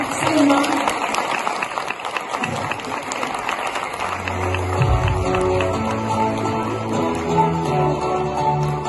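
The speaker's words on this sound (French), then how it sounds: "Vraiment un tonnerre d'applaudissements pour Salma." An indoor audience bursts into loud, dense clapping for the first few seconds; it thins out as a steady tonal background takes over.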